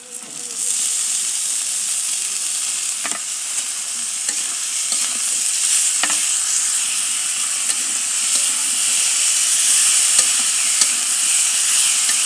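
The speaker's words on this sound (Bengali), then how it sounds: "এখন আমি আলুগুলো দিয়ে দিলাম।" Potatoes tossed into fried onions sizzle and hiss steadily in a pan over a clay stove, with occasional scraping stirs as the frying grows slightly louder.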